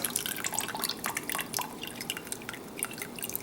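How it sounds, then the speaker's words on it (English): Water from a hop bag just lifted out of hot hop tea for a Canadian blonde ale drips steadily back into the pot, a close, continuous patter of small droplets with no talk. "get all the water out without squeezing the bag"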